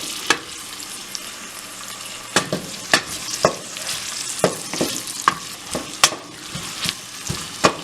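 Chopped onions frying and browning in a pot for chicken and chickpea curry, with a constant sizzle broken by sharp, irregular clanks of a spoon stirring against the metal.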